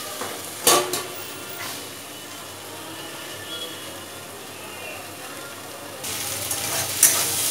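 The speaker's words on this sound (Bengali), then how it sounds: "দেখো আমার একদম ঢ্যাঁড়স আলু ভাজা হয়ে গেছে।" Okra and potato frying in a pan, a low steady sizzle with occasional sharp stirring clinks and a brief lid or utensil knock, quiet and close.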